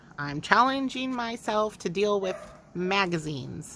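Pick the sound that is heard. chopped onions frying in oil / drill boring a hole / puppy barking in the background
puppy barking in the background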